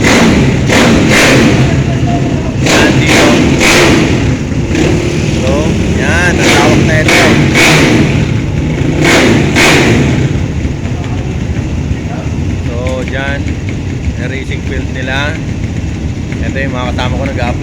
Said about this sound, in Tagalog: nagkakarera yung mga motor